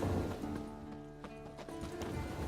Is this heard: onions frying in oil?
no